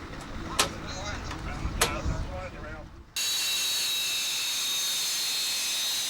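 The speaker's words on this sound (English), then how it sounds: "two Swiss hunters taxiing out for a last-minute practice display before the show started" Swiss Hawker Hunter jets taxi out at an airshow, their engines a loud, steady whine and roar that takes over abruptly after an opening stretch of close speech.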